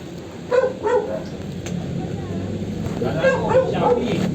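A few short dog barks come in two clusters, with voices murmuring in the background.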